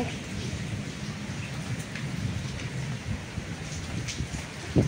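Steady rain falls outdoors with a dense, even hiss, joined by a faint low rumble in the background.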